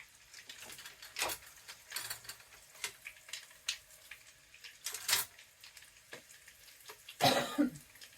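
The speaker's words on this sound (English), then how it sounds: "There I go with my pepper cough." Several short coughs and throat clears, set off by pepper and dry mustard, break through a soft background sizzle, the loudest near the end, all close by.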